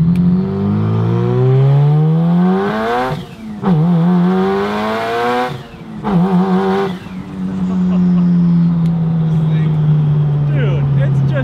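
A 500hp Mitsubishi Evo with a newly fitted twin-disk six-puck clutch accelerates hard through several gears, its engine note climbing loudly with short breaks at each shift, while occupants shout excitedly over it.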